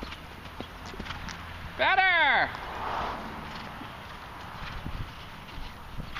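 A horse's hooves clip-clop at a walk in an outdoor jumping arena, steady and close; a rider's coach calls out briefly and a short horse whinny-like sound rises mid-clip.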